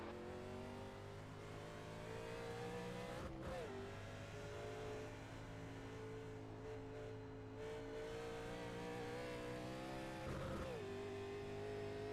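A race car approaching in a racing video game, a steady engine drone with rising and falling pitch as it nears and passes, heard faintly without voices.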